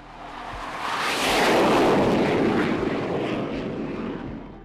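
A T-45 Goshawk, a small two-seat subsonic jet trainer with a single engine, roars past, a broad loud jet rush that swells and slowly fades.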